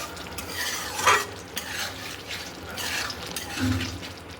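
Spice masala stirred as it fries in a pan for a soybean curry, a soft continuous sizzle with scraping spoon strokes against the pan, moderately close and steady, with no voices.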